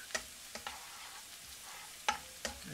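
Garlic frying in a pan for a shiitake mushroom and bok choy stir-fry, a faint low sizzle broken by a few sharp utensil scrapes and taps as it is stirred.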